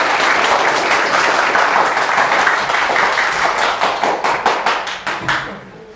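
Dense applause from an audience greeting a university animal-science professor at a public science lecture in Gwangju, a steady wash of many hands that thins into scattered individual claps before fading out.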